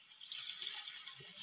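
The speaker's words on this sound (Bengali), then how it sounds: "এবারে জল ঢেলে দিলাম।" Water pours steadily from a vessel into a cooking pan in a home kitchen, a continuous close hissing splash with no talk over it.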